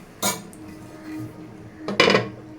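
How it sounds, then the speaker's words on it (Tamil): A metal lid clanks onto a cooking pan of beans stir-fry, with two distinct clattering knocks a couple of seconds apart over quiet kitchen background. "இப்போ நம்ம மூடி போட்டு மூடி வச்சிடலாம்."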